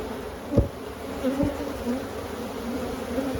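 Honeybees buzz in a dense, steady drone around an open hive during an inspection, with a few nearer bees droning past and faint bumps of handling underneath.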